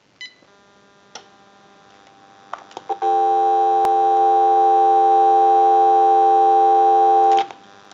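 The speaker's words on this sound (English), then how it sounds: "Now what we can do is go ahead and give you some dial tone" A General Electric 27909 cordless phone produces a steady continuous dial tone lasting several seconds, preceded by a few short clicks and beeps from the handset, then cut off abruptly.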